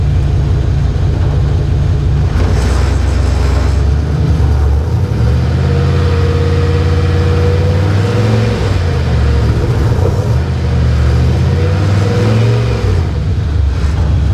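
A cold Ford Model A engine, just brought back to life, is revved repeatedly, its loud mid-pitched roar swelling and falling in long sweeps over a steady rumble, with no voices.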